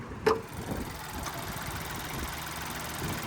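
A 2025 Buick Envista Avenir's 1.2-liter turbocharged three-cylinder engine idles steadily with a low, even rumble and faint knocking texture, after a brief click at the start.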